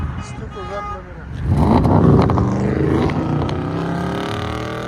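A 2017 Audi S7 widebody with a 4.0L twin-turbo V8 and muffler delete revs hard and bounces off the rev limiter. A loud, close, raspy engine roar swells and holds while voices are heard over it.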